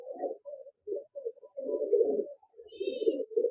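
An imported male Teddy pigeon coos in soft, low, throaty phrases, repeating in short pulses and longer rolling bursts, close by in a quiet space, with a faint high chirp from another bird briefly in the background.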